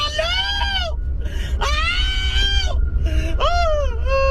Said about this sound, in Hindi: गुल्ली बुल्ली देखते हैं कि अंदर से तो चिल्लाने की काफी ज्यादा आवाज आ रही है।